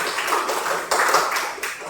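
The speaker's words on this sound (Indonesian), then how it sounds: "Tepuk tangan" A short burst of applause from a small group of students in a classroom, with a couple of louder surges of clapping.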